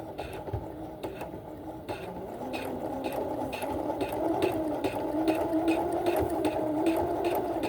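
Sewing machine stitching a dress shoulder seam over pins: a fast, steady mechanical whirr with regular ticking needle strokes, moderately close and continuous, with no talk.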